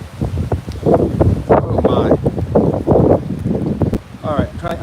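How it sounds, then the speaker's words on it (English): Strong gusty wind buffets the microphone during an outdoor beehive setup, a loud low rumble running throughout beneath a woman's speech. "Sorry about the wind, everybody. It's super windy."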